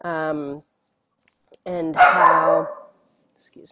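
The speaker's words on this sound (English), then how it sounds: "that's my dog." A dog barks in a home setting during a discussion about theater: two separate yelping barks with a pause between them, loud and close, with a person's speech overlapping the second bark.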